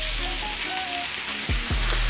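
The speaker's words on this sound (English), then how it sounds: "With the heat still up, we're gonna add our onions." Onions sizzling in a hot pan just after steaks came out, a steady close frying hiss beneath faint tonal clinks and a couple of short scraping sounds.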